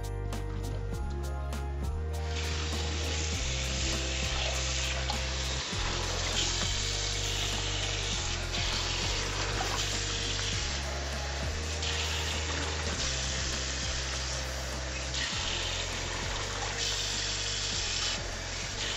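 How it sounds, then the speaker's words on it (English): Cold water runs steadily from a kitchen tap over drained boiled potatoes in a colander, a continuous close splashing hiss with low rumbling underneath throughout. "And you're going to run cold water over them to stop the cooking process."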